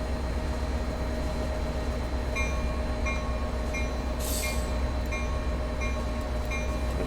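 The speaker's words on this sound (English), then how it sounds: "The HEP generator is running," Steady diesel hum of a Caltrain F40PH-2CAT locomotive in the Train Sim World game, with its head-end power generator running. The drone is continuous and even, with a faint high hiss in the middle and no talking.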